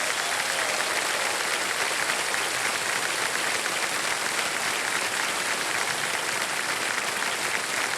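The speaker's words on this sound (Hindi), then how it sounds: "बहुत बहुत तालियां बज जाए इनके लिए" Studio audience applause on the quiz show Kaun Banega Crorepati, a loud, continuous wash of clapping that holds steady throughout with no break.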